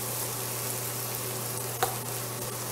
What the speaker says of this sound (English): we're going to go ahead and saute along with the onions